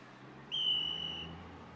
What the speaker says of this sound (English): Whistles blown as traffic gets directed amidst broken power lines and traffic signals.